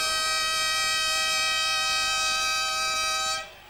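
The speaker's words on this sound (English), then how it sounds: "That's definitely the siren." Steady sustained siren at quarter time during an Australian football match at Elizabeth Oval, a loud unbroken multi-tone blare holding for over three seconds before cutting off abruptly at the end.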